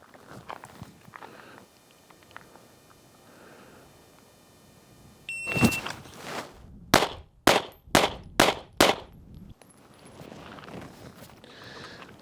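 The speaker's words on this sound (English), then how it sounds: "So the first one again is 5 rounds into the first target there." Handgun fired during a concealed carry baseline drill at a shooting range: an electronic timer beep, then five sharp, loud shots in a quick, fairly even string, with quieter handling sounds before and after.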